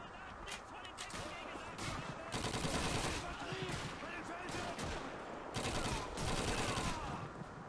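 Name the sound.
rifle gunfire in video game Call of Duty 2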